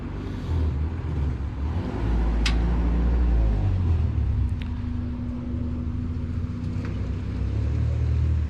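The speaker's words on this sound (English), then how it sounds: "Oh my God, we got a race car coming." A race car passes on a road, heard from near a parked Duramax truck: a loud low engine rumble that builds, stays heavy for several seconds and then eases off as it goes by, with no talking.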